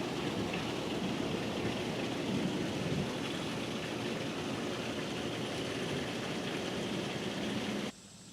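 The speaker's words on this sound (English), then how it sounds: "It's raining." Steady, dense rain hisses continuously, moderately loud, with a low rumble underneath, cutting off abruptly near the end.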